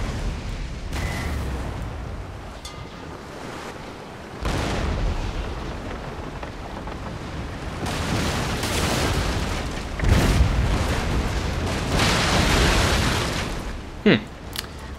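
Artillery cannon fire in the Napoleonic battle game Napoleon: Total War, a series of deep booms and rumbling blasts, some distant and some closer, over a continuous battlefield din, ending with a sharp nearer crack.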